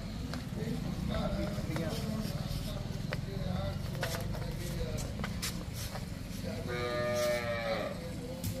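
Cattle low from close by at a dairy farm, with a clear drawn-out moo near the end, set over shuffling and movement noises and a steady background din.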